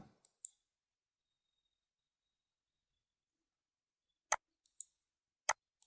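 Sharp computer mouse clicks during a domain and hosting booking tutorial: a couple of quick clicks at the start, then a longer silence, then several crisp, close clicks near the end, alone with no talking.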